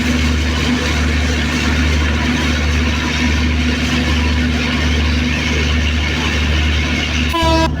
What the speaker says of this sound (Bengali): ঢাকামুখী মধুমতি এক্সপ্রেস ট্রেনটি কিন্তু পাতুরিয়া জংশন রেল স্টেশন ছেড়ে যাচ্ছে